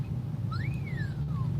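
A single faint rising-then-falling whistle tone sounds in the distance over a constant low engine rumble.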